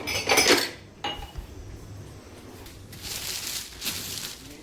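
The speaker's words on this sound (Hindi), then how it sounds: "इतने सारे बर्तन जमा हो गए हैं, तो अब इनको भी धोना है" A pile of dirty dishes is washed by hand, with clattering plates, pots and cutlery clinking close by over running water and a steady wash hiss.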